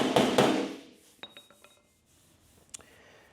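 Light metallic taps on a Camaro fender, struck to relieve pressure in the panel: several quick, ringing knocks spaced about a quarter second apart and one more sharp tap, following a louder scraping rustle at the start.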